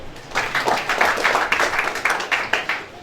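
A crowd of university students at an orientation claps together in a burst of applause, many hands close by, lasting a few seconds.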